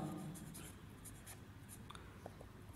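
Pen writing by hand on paper, faint close scratching strokes in short irregular bursts, with no talking.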